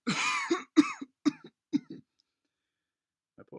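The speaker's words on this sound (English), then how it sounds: "How long have you had that cough?" A man's cough in a quiet room: a long rasping burst, then several short hacking coughs in quick succession, fading to silence before a faint pair of final coughs.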